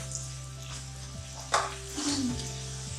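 Onion with garam masala of black pepper, cloves and black cardamom fries in a pan, a soft sizzle under a steady low hum, with a sharp stir or clink midway and some light scraping.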